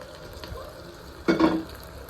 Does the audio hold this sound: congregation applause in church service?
no